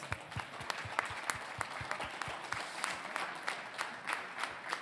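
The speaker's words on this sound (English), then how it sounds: "a big round of applause" Audience applause at a Tamil associations' community event in Europe: a moderately sized crowd clapping steadily for several seconds, individual claps distinct, heard at moderate distance.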